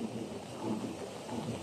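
Rain falling with thunder on a day at Gardaland, a steady dense hiss of rain with a low rumbling underneath, moderately quiet and unbroken, with no one talking.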